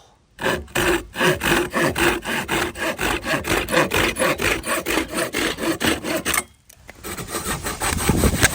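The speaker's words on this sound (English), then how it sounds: "Split it, cut it into little 9-inch pieces." A hand saw cuts firewood into small pieces at a camp, with rhythmic rasping back-and-forth strokes close up, a brief pause partway through, then the sawing resumes.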